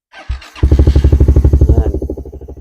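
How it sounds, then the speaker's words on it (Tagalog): A motorcycle engine cranks briefly, catches, and settles into a loud, steady putter of rhythmic pulses close by. "sobrang tahimik pa ng makina pag papaandarin natin"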